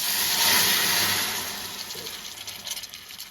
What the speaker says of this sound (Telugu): పులుసు అనేది బాగా మరుగుతుందండి